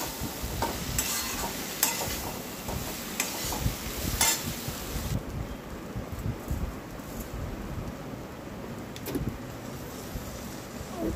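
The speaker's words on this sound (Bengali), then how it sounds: "এগুলোকে ভালো করে নেড়ে চেড়ে এই জায়গাটা ভালো করে একটু ভাজতে হবে।" Potatoes being stirred and fried in a pan for an aloo posto dish, with a soft steady sizzle and scattered scrapes and knocks of a utensil against the pan, close and moderately quiet.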